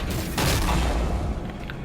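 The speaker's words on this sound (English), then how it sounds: "set off a delayed explosion that launches the opponent" A delayed explosion from a thrown gadget in a superhero fighting video game, heard as a loud booming blast with a rumbling tail lasting around two seconds, with no voices over it.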